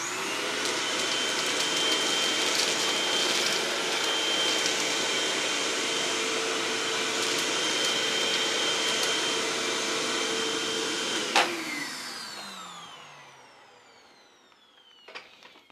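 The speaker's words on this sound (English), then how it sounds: "let's see how the Hoover does. We have it on its hard floor setting" A Hoover vacuum cleaner on its hard floor setting runs with a loud, steady motor whine and airflow roar for about eleven seconds, then winds down with a falling pitch to quiet.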